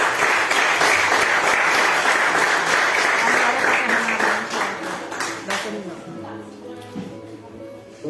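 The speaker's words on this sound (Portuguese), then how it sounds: "Um louvor de palmas ao Senhor Jesus Cristo." A church congregation bursts into loud, sustained applause during a Portuguese-language worship service, the dense clapping filling the room before gradually thinning toward the end while a voice speaks over it.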